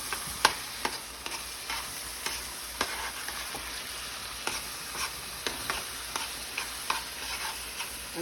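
A spoon stirs a tofu ricotta mixture seasoned with onion and garlic powder in a bowl, making steady repeated scraping clicks at a regular rhythm, close by and moderately soft, with no talking.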